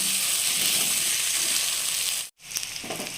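Spice paste with cashew paste and raisins sautéing in a pan, giving a steady close sizzle and hiss that breaks off briefly, then resumes with light stirring.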